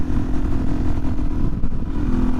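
A tuned Suzuki DRZ400SM single-cylinder motorcycle engine with intake and exhaust mods runs loud and close, a steady throaty drone with a strong low hum and rough mechanical texture, no voices.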